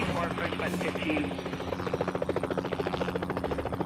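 A helicopter in the game Helicopter Simulator 2014: Search and Rescue thrums with a fast, regular rotor chop over a steady engine drone, strongest in the second half. A voice is briefly heard near the start.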